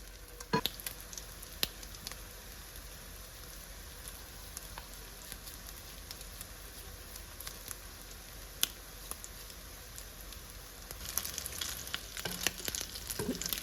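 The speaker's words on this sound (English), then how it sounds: "My skillet is nice and hot. And I'm just going to add my patties." Salmon patties frying in a hot skillet, a steady soft sizzle with scattered crackles and pops that grow livelier toward the end, without speech.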